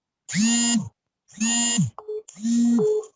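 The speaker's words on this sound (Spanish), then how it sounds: "Si alguien puede apagar la alarma, por favor." An electronic alarm buzzer sounds in three separate flat, piercing beeps, each about half a second long, with short gaps between them.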